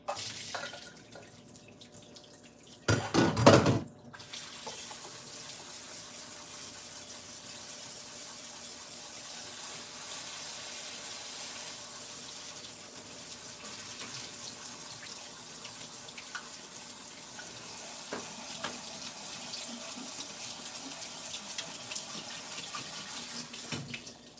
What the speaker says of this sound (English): make sure you rinse it in cold water to stop it from cooking